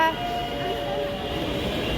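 At a metro station, a train hums steadily, with a tonal horn-like whine over the rumble and faint voices nearby.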